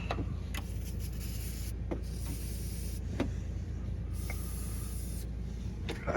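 Short hissing bursts of aerosol spray come and go several times, each a few seconds long, against a low steady background hum.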